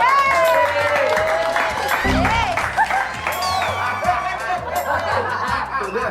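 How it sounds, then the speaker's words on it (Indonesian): A burst of applause from a small group mixed with laughter and chatter, lively and close, continuing under voices. "bener, bagus, tepuk tangan buat Abel."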